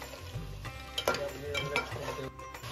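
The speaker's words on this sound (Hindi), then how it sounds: "अब इसको अच्छे से हम करछी को चलाएंगे और इसको भूनेंगे।" A ladle scrapes and stirs whole cloves and cumin seeds roasting in a hot pan, a few sharp clinks and a soft sizzle over a short stretch.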